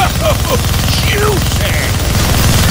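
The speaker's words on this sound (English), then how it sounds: "Gonna need both hands to shoot that minigun." A minigun fires in the Deadpool video game as a dense, continuous buzzing rattle of rapid shots, loud and close, with whistling game effects mixed over the top.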